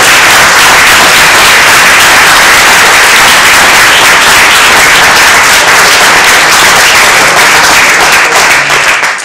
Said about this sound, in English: Applause for all of our candidates.